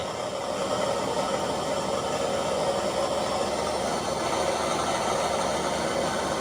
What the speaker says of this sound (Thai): นี่เราสามารถเร่งเครื่องได้